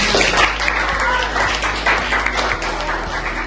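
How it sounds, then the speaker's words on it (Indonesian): A classroom full of students breaks into applause, with dense and steady clapping that continues for a few seconds, while faint voices mix in underneath. "Udah tepuk tangan dulu buat"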